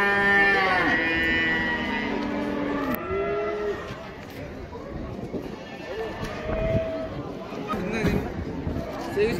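Male fattening calves and other cattle moo repeatedly at the Taraz livestock bazaar, several long lowing calls close by, with people talking and market bustle throughout.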